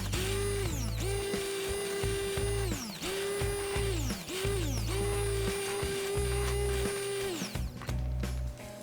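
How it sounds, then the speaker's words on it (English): Blender motor pureeing cherries for an ice cream sandwich filling, a loud steady whir that runs in several long bursts with brief pitch dips and restarts between them. "Blend the rest of the cherries until smooth."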